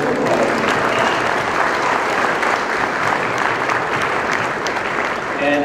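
A hall audience claps for the Marine Military Academy band at a birthday ball. The applause is dense and sustained, loud and even throughout, with a faint murmur of the crowd underneath.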